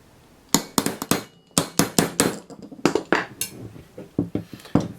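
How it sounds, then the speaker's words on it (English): Steel hammer tapping a 1/8 inch roll pin punch to drive a roll pin from an M14 rifle part, a close series of sharp metallic taps in irregular clusters with brief pauses. "Get your 1/8 roll pin punch and your hammer."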